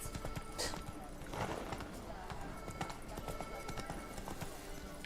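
Horse hooves clip-clop in The Witcher 3, a quick run of light hoof strikes close by with a brief whinny-like burst near the start and game ambience underneath.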